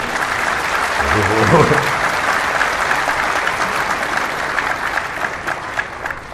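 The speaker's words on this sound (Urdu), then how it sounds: "یہ تو دکھ والی بات پہ تم نے تالیاں بجائی ہیں" Loud, sustained audience applause at a religious lecture, a dense crowd clapping throughout with a voice speaking over it.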